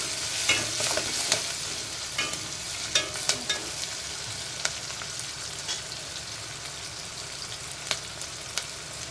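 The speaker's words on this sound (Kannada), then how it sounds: "ಉಪ್ಪು ಹಾಕೋದ್ರಿಂದ ಉಳ್ಳಾಗಡ್ಡೆ ಬೇಗ ಫ್ರೈ ಆಗ್ತವೆ" Onions frying with salt in a pan make a steady close sizzle, broken by repeated scraping clicks of a spatula stirring at irregular intervals.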